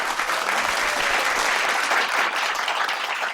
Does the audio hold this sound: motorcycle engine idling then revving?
no